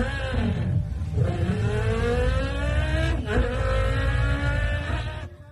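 A voice mimics a revving car engine, rising and falling in pitch with harmonic drones, continuous and loud for several seconds.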